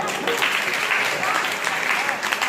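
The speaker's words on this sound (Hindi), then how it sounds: "मैं चाहता हूँ कि आप सब लोग अपने घर की बिटिया के लिए जोरदार तालियां बजाएं" At an Atal Jayanti poetry gathering held at a Saraswati Vidya Mandir school, the audience breaks into thick, continuous applause that stays loud and unbroken throughout.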